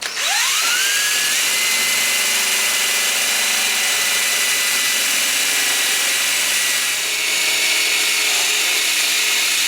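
A cordless drill spins up and runs steadily at a high pitch, loud and close, grinding into wood without pause, shaping a wooden spoon.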